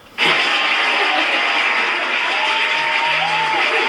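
Applause starts abruptly during a podcast recording: a dense, steady wash of clapping held close and loud for several seconds, with faint voices underneath.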